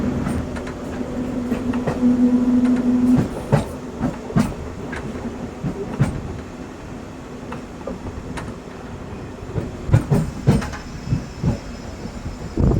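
The Simhadri Express runs between Visakhapatnam and Guntur, heard from on board as a steady rumble with irregular clickety-clack rail knocks and a low hum early on.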